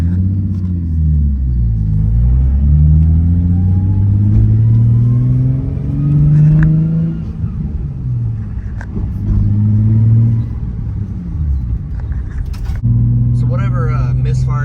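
A Nissan Z car engine runs while driving, a loud close rumble rising and falling through gear changes and acceleration, with a misfire issue noted, and talk over it.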